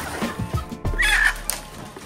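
Native chickens cluck in short, close bursts at morning feeding time, a few quick calls over a couple of seconds.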